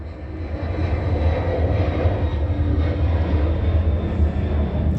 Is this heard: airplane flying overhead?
yes